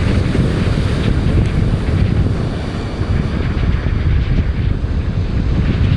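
Strong wind buffets the microphone outdoors while a DJI Air 3S drone flies, a loud, continuous rumbling roar with no let-up.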